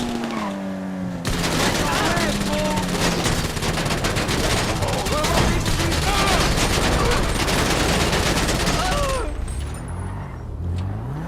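Sustained automatic gunfire in GTA 5 as a magazine is emptied, a dense rapid burst of shots lasting about eight seconds at full loudness, preceded and followed by quieter game sound.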